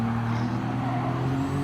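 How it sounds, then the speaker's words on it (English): A 600HP R32 Skyline racing in Gran Turismo Sport, a loud, steady engine drone with a sustained whine over it, heard close and alone. "so you can really hear that turbo going"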